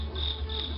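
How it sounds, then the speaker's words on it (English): Crickets chirp steadily outdoors beside a backyard model railroad layout, a continuous high trilling that sits close and fairly loud with no voices over it. "Gonna have to excuse the crickets, they're back again this year."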